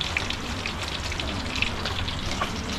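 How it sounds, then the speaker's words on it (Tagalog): Steady rain patters and hisses on surfaces outdoors, close and continuous, with no voices during a cooking session. "Di pa rin tumitigil yung ulan mga kabayan."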